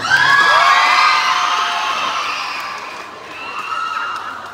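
A loud crowd cheers and shouts with whoops at a teen pageant during a barangay day celebration in the Philippines, swelling at first, then fading slightly before rising again.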